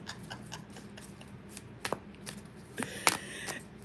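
Tarot cards shuffled by hand in a series of soft riffling and tapping bursts, close and fairly quiet, with a few sharper snaps near the end and no talking.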